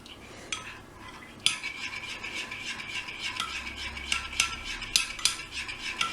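A spoon stirs a thickening mint raw chocolate mixture in a bowl, with quick scraping and clinking strokes that grow busier after a short pause, close but soft.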